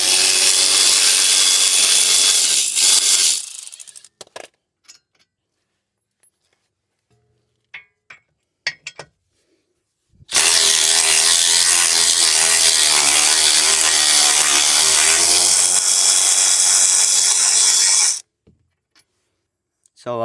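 A ratchet removes the wheel bearing bolts on a Toyota RAV4. Two long, loud stretches of rapid, harsh ratcheting sit close by, separated by quiet gaps with a few sharp clicks and clanks.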